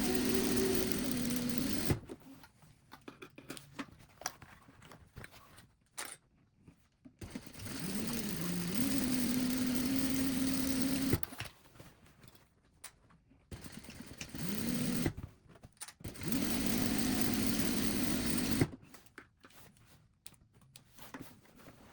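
A sewing machine stitching the sides and bottom of a fabric basket, in three loud close bursts of steady whirring with rising and falling pitch, separated by quieter pauses with handling noises.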